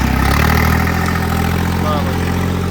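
A Mahindra 575 tractor engine runs close by, a loud, steady rumble that holds at an even level from start to finish.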